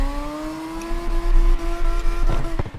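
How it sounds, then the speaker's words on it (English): A car engine held at maximum revs in the drift game CarX Drift Racing Online, a loud, steady, buzzing high-pitched whine with a slight wobble, ending in a few sharp crackles and pops. "especially if you're max revving the engine"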